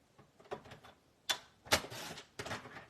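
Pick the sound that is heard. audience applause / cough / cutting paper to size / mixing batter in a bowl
cutting paper to size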